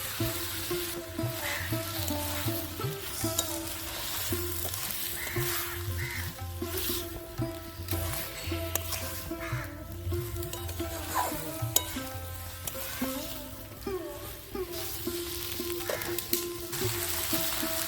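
Boiled potatoes, drumstick pieces and eggplant sauté in oil in a pan, giving a steady close sizzle broken by repeated spatula scrapes and stirring clatter, with no talking.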